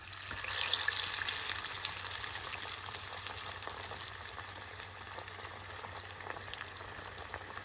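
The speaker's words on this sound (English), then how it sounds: "So my little deep fry is ready. So I'm gonna add these fritters into that." Sri Lankan lentil fritters, parippu wade, bubble and crackle in hot deep-frying oil with a steady fizzing hiss and scattered pops, fairly quiet and close, with no talking.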